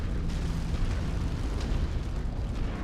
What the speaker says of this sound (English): the AC5 and the AC10 burst fire, they have different range, different firing rate, and perhaps a different muzzle velocity